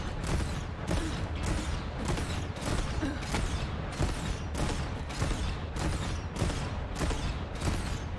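A shotgun in Borderlands 3 fires over and over at a steady, rapid pace, each blast a loud booming crack that nearly runs into the next, about ten shots packed into several seconds.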